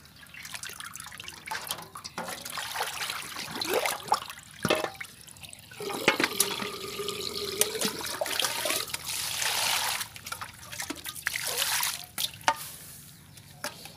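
Water splashes, trickles and drains as ingredients for a Vietnamese vegetarian beef roll are rinsed over and over, with steady running and dripping throughout and brief louder pours.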